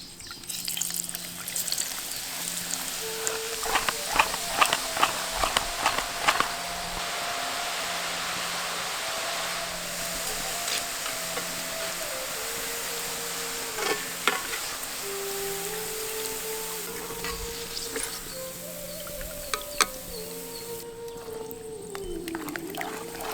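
Boondi batter dropping into hot oil in a pan to make Tirupati laddu: steady, loud sizzling and bubbling that continues throughout, with occasional clinks and scrapes of a ladle.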